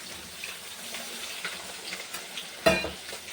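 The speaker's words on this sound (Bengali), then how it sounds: "এবার একটু হালকা জল দিয়ে দেবো" Water splashes into spice paste frying in a pan for an amudi fish curry with onion stalks and potato, giving a sudden loud burst of sizzle late on over a faint steady frying hiss.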